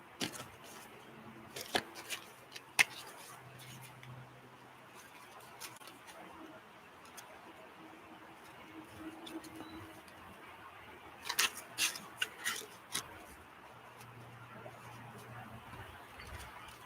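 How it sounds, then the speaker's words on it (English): Tarot cards being shuffled by hand, with soft riffling and patter bursts that come in short clusters around the middle and again near the end, fairly quiet over a low steady room background. "Just a few more quick shuffles."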